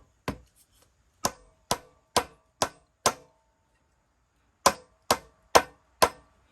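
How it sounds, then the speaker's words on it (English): Ten sharp metallic hammer taps on a Honda lawn tractor ring out in two quick runs separated by a short pause, each strike clear and close with a brief ringing decay. "Try lightly tapping it with a hammer."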